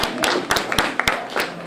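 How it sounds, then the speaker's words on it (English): A church congregation at a Eucharistic celebration claps for the reader, a scattered burst of hand claps in an uneven rhythm, fairly close and loud. "let's clap for him"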